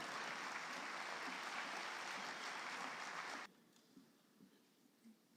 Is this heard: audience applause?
yes